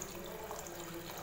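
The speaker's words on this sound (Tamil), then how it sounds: "இப்போ இதில் வந்து நம்ம தண்ணி சேர்த்துக்கலாம்." Water runs in a steady stream into a pressure cooker for ghee rice, a continuous pouring rush with no pauses, fairly quiet and close.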